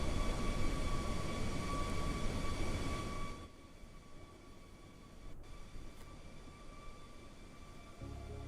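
An Airbus A321neo in Microsoft Flight Simulator 2020 produces a steady, loud engine roar with a high whine, then drops abruptly to a quieter cabin hum with a brief click, and the roar resumes at the end.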